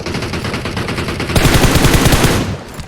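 Rapid automatic gunfire from PUBG Mobile rattles in close, loud bursts, and a second, heavier volley of shots cuts in midway and carries on densely before stopping abruptly.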